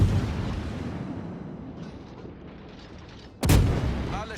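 Naval gunfire in the World of Warships video game: a low rumbling battle din, then one sudden loud boom near the end that rolls on heavily.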